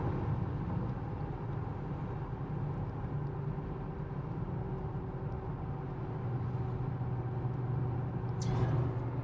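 BMW X5 cruising on the road in a 100 zone, a steady low engine and road rumble with tyre noise holding evenly throughout, heard from inside the cabin with no talking.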